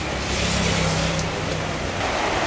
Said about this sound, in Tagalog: Umuulan po dito sa atin.